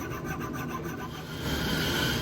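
A tool rasps at the corners of a hickory hammer handle to round them over, giving a steady, close scraping and rubbing sound that grows a little louder toward the end.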